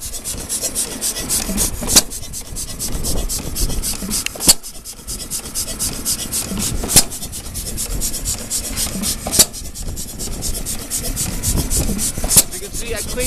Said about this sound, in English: that wood splitter splits on each side once a second